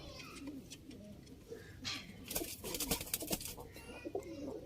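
A breeding pair of teddy pigeons coos in soft, throaty bursts near the listener, with rustling and scattered sharp clicks and flutters building toward the end.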